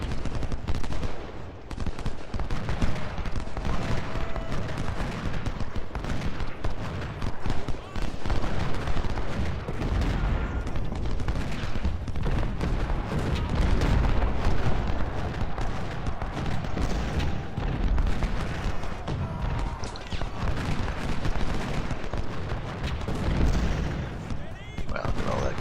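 Dense cannon and musket fire in a Civil War video game depicting the First Battle of Bull Run, a constant roar of overlapping shots and booms filling the whole stretch with barely a pause.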